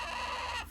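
Chickens cluck in a backyard homestead coop, a close, busy burst of clucking and fowl chatter that cuts off abruptly near the end.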